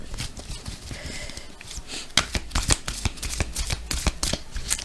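A deck of guardian angel tarot cards is shuffled close by, a fast run of riffling, flapping card snaps that grows busier toward the end, with no talking.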